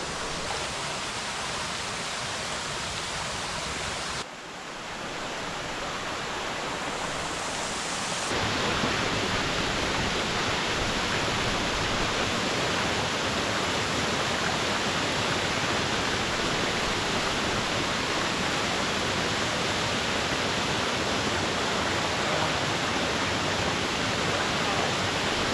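Steady roar of a waterfall in Indiana's Hoosier National Forest, a dense constant rush of falling water that swells louder partway through and stays strong to the end.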